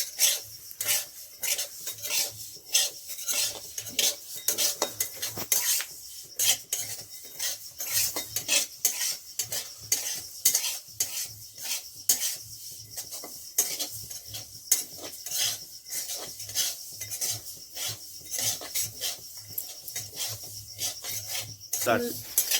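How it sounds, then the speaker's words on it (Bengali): Sesame seeds dry-roasting in a dry pan are stirred constantly: a close, steady rasping scrape of the spoon through the seeds with no talking. "শুকনো খোলায় তিলটা প্রথমে একটু ভেজে নিতে হবে, হালকা করে সমানে নাড়তে হবে"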